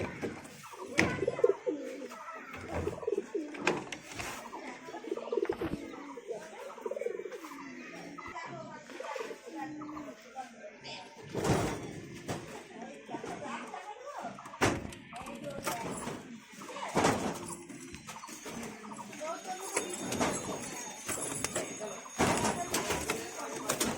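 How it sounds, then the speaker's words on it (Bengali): Pigeons cooing as their coops are opened, soft repeated coos mixed with sharp knocks and clatter from the coop doors, under frequent talking throughout. "পায়রা খোপগুলো খুলে দিই।"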